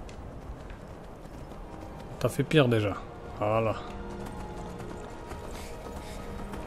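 Horse hooves galloping in the video game Skyrim, a soft continuous clip-clop running underneath, while someone talks briefly in the middle.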